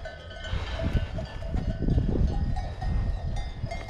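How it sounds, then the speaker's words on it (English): Cowbells worn by cows along a rural walking route in northern Spain clank and jangle irregularly, close by, over low rustling and movement. "Oh, you're just a bunch of nice cows, huh?"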